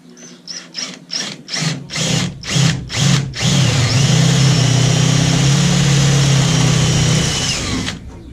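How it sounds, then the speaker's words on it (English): A power drill bores through the side of a bass boat hull: a quick series of short trigger bursts, then one sustained loud grinding whine that stops abruptly. "I am drilling into the side of the boat."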